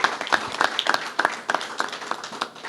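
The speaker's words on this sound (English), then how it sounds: "Let's give all of these folks a round of applause," Scattered applause from a small audience at the opening of a new transitional shelter site, with individual claps clearly separated in an uneven rhythm throughout.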